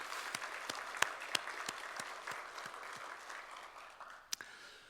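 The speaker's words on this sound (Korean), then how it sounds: "우리 찬양 받으신 주님께 영광의 박수 올립시다." A church congregation applauding during Sunday worship, a steady, soft wash of many hands with a few sharp, louder claps standing out near the mic.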